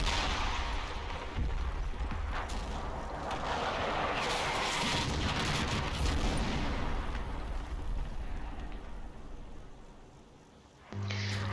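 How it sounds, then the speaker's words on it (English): A player-called artillery barrage in the Combat Mission video game, set in Operation Epsom, rumbles as dense, continuous booming and crashing fire that stays loud and unbroken before cutting off abruptly near the end. "I call in my own barrage"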